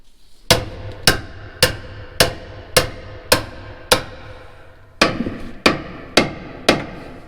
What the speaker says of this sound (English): Hammer, hammer, hammer.